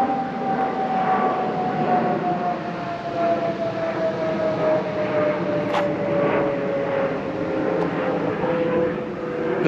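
Airplane flying overhead near Newark, a broad steady roar with a slowly falling whine, loud and continuous throughout with no talk.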